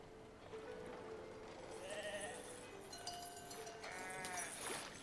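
Sheep bleat several times in the video game Foundation, a few drawn-out calls rising over a steady ambient bed of farm-village background noise, with no talking.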